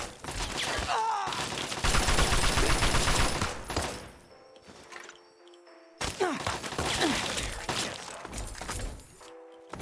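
Bursts of rapid gunfire in the Fallout video game, loud and dense with a crashing, shattering edge, coming in two heavy volleys separated by a short quieter gap.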